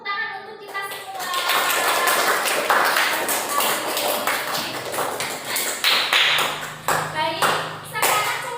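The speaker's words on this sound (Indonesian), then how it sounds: "Beri applause atau tepuk tangan untuk kita semua." Classroom students clapping hands in applause, a dense burst of quick claps under chatter and children's voices, fading out near the end.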